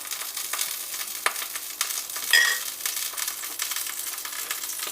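Salmon frying in a pan, a continuous crackling sizzle with small popping spikes and one sharper clink partway through, close and steady with no voices.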